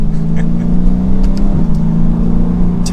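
A 6.4-liter V8 in a 2022 Dodge Challenger Scat Pack 392 revs with a steady, deep, loud rumble that holds for about three seconds, close up and with no talking over it.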